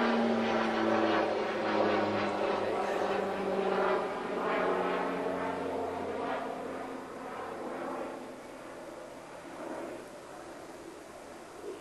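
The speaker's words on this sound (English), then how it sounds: "Have an airplane going over San Diego." A fixed-wing airplane flies over San Diego, producing a loud, steady engine drone that holds throughout and eases off slightly toward the end.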